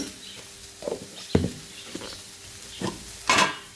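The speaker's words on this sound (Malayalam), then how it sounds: "നമ്മൾ നന്നായിട്ട് അത് ഇളക്കിക്കൊണ്ടിരിക്കണം" Okra stir-fry in coconut oil is stirred in a pan, with intermittent scraping and clattering strokes over a low sizzle, ending in a sharper burst of frying.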